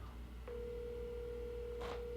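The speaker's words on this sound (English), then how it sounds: "We're calling Reno May right now" A telephone call in progress, with a steady electronic ringback tone sounding alone and fairly quiet for most of the stretch, with a brief click just before it starts.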